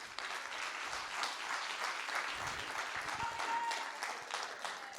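A church audience claps hands together in sustained, dense applause, a steady wash of many palms that holds at an even loudness for the whole stretch with no talking.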